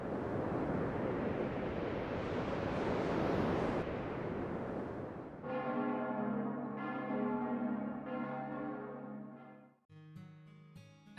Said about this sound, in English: I hear a bell ringing.